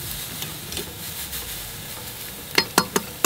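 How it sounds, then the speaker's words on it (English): Teres major steak sizzles on a hot grill grate with a soft steady hiss, broken near the end by a few sharp clicking taps close by. "And you just want to continue to hear that sizzle."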